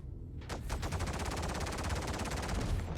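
Rapid ballistic gunfire hammering the turrets of an Idris ship in Star Citizen: a dense, unbroken machine-gun burst with evenly spaced shots, loud and close, starting abruptly after a brief quiet.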